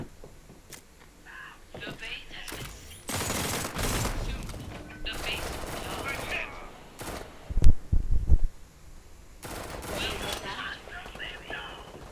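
Gunfire in a shooter video game comes in scoped rifle shots and bursts, including a sharp loud cluster near the middle, mixed with game sounds while a player talks over it throughout.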